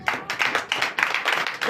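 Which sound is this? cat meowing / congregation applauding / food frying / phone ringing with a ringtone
congregation applauding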